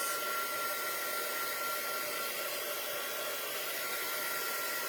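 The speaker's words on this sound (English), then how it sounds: "so now I'm going to dry this like with my heat tool" A constant, even blowing whir of a handheld heat tool drying craft paint, running close by, steady throughout with no talking.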